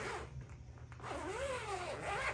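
A zipper pulled along the compartment on the back of a foldable 400W solar panel, a faint rasping glide that rises and falls in pitch across a couple of seconds, heard alone.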